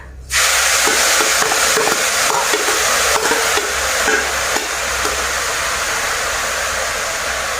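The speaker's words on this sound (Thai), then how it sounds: "เราจะคั่วมดแดงให้แห้งนะคะ หลังจากที่ต้มแล้วค่ะ" Boiled red ants dry-roasting in a hot pan give a loud, steady sizzling hiss, broken by a few scraping stirs early on, close and continuous with no talking.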